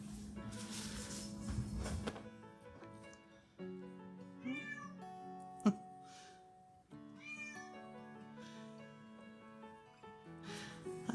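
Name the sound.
pet cat meowing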